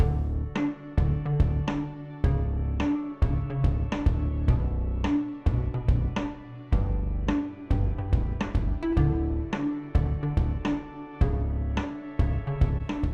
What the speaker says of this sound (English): I have added a distortion in this bass